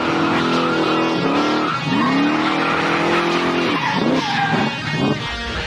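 A supercharged VN Holden Commodore street car revs hard nearby, its engine howling through rising and falling pitch sweeps alongside loud tyre squeal, continuous and dense for several seconds.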